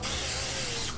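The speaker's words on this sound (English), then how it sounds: "We're going to oil our 9x13 baking dish with some cooking spray." Cooking spray hissing onto a 9x13 baking dish, one continuous close aerosol burst lasting about a second.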